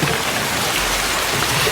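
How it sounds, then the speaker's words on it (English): Pouring rain in a film scene: a dense, loud, steady hiss of heavy rainfall filling the whole moment with no breaks and no voices. "Pouring rain."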